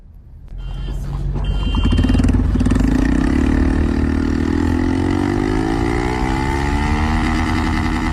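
A motorbike doing wheelies in Bengaluru traffic roars close by, its engine swelling from idle into a loud, sustained drone that climbs steadily in pitch as the rider accelerates, with traffic noise underneath.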